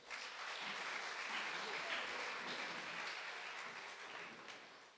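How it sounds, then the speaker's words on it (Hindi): An audience at a religious lecture on addiction applauds steadily to welcome guests, a dense, even wash of many hands that fades slightly near the end. "एक बार फिर से मेहमानों का तालियों के साथ इस्तकबाल कर लें।"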